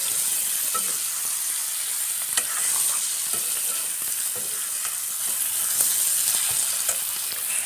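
Broiler chicken legs fry in a hot wok with a steady, dense sizzle and occasional crackling pops, continuous and close throughout with no voices.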